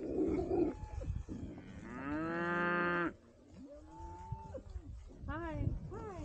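Cattle moo near a Jeep Gladiator used to haul them. One long, loud, drawn-out moo is followed by several shorter calls, with people talking and low rumbling noise in the background.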